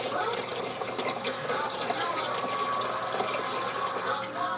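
Water pours steadily into an aquarium sump, with a constant rushing, splashing flow and no talking.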